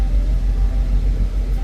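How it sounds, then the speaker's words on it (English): A truck rolls slowly through a trucking yard, giving a close, steady low engine rumble with a mild swell and dip across a short stretch and no voices. "Got a prime truck moving through the yard real slow"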